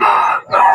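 Chickens at a Kaptan Bazar poultry market selling deshi and fancy hens, with a loud, close rooster crow held for most of a second, a brief dip, then a second crow.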